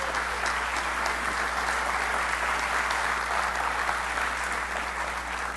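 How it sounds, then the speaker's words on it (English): Steady, dense crowd applause at a TEDx Aruba talk, honoring the island's next generation, sustained evenly without a break from start to finish. "a hand of applause for the next generation of Aruba"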